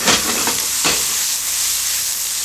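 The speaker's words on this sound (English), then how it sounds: "And that'll go into my frying pan" Sliced tomato sizzles in a frying pan as clam sauce is prepared, a loud close hiss of frying with a few bursts of stirring at the start before it settles into a steady crackle.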